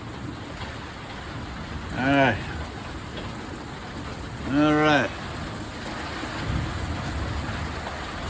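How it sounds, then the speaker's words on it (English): Steady wind-driven desert rain in Wonder Valley, California, a constant broadband wash close to the microphone, with someone speaking briefly twice over it. "sideways rain"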